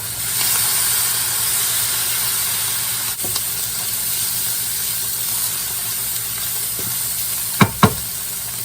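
Soy sauce sizzling in a hot pan of chicken linguine, a loud steady frying hiss throughout with a couple of brief sharp knocks near the end.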